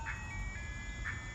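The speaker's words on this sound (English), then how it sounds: "The ice cream truck's coming by, and it has the creepiest track that it loops that I've ever heard from an ice cream truck" An ice cream truck drives by playing its looping jingle, a thin, tinny melody of a few high notes heard at a distance, quiet over a low background rumble with no talk.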